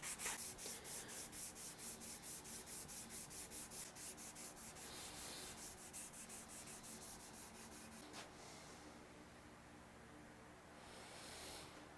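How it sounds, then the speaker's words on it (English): Rhythmic back-and-forth strokes of sandpaper rub by hand across a wooden guitar body at a steady pace, pausing briefly, then resuming more softly; close and fairly quiet, no talking. "I want to see how this sands by hand"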